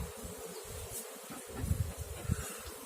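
Honeybees hum in an open hive during a spring colony inspection of the frames, a soft continuous buzz close by with occasional louder swells and faint handling bumps.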